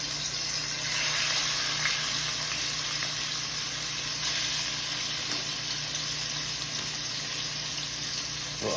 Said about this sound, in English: my pot is on the fire and I'm just gonna be putting my meat inside it